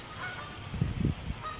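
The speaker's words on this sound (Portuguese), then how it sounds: "Cala a boca, seus gansos de..." A few close, loud honks from geese in a quick cluster, with low background noise and no talking.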